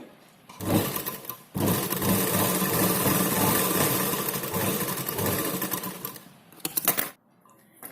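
A sewing machine runs a straight seam on a blouse, starting with a short burst and then a long continuous whirring stitch of several seconds, ending in a few stop-start bursts, close and loud.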